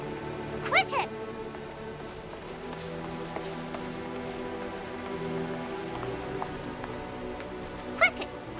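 A rare Ziazu cricket, once given as a gift to Chinese emperors, chirps in a steady repeating trill of short bursts throughout, with a few brighter squeaks and faint background noise in an old Beijing setting.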